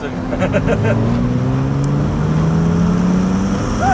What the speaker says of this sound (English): It feels like it's got a good strong engine on it.